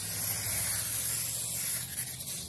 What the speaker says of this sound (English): take a brake clean, just spray it down